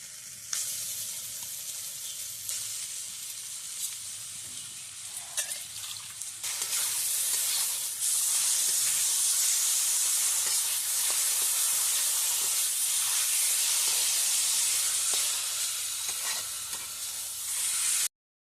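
Boiled taro stems hit a hot pan with turmeric, giving a loud, steady sizzle and hiss that jumps up and holds after a quieter start, with occasional stirring scrapes.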